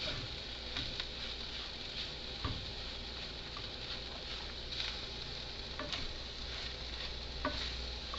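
Vegan al pastor taco filling cooks in a pan with a steady low sizzle, stirred now and then with soft scraping ticks, continuous and close with no talking.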